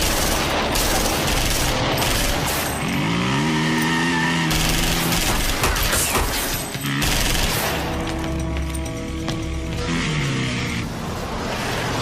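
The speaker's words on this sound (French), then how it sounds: "On dirait une fusillade" Rapid bursts of gunfire crackle continuously, dense and loud, with engine-like rumbling underneath and tonal sweeps.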